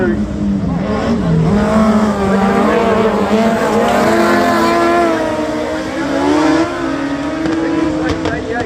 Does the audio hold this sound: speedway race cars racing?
yes